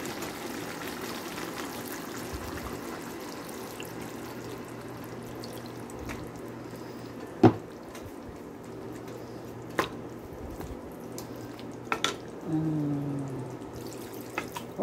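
Water poured into a cooking pot holding chicken, carrots and potato, giving soft trickling and splashing with a few sharper clinks and a brief gurgle near the end, fairly faint and with no talk.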